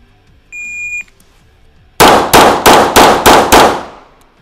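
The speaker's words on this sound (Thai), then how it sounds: "การยิง6นัดนะครับ" A shot timer beeps once, then six sharp, loud pistol shots ring out in quick, even succession at IPSC shooting practice from about ten metres, each crack trailing a brief echo.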